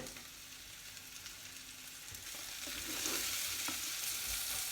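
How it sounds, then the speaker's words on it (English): Onions and garlic frying in a pan for courgette soup, a steady sizzle with occasional stirring scrapes that grows slightly louder and brighter toward the end, with no talk. "So onions are cooking well, garlic is cooking well."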